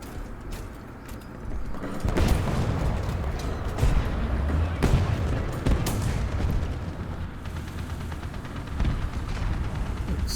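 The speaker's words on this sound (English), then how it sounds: "Oh, we got artillery fire coming in." Incoming artillery in War Thunder lands as deep booming explosions, several heavy blasts spaced a few seconds apart over a rumbling battlefield, with a voice talking faintly underneath.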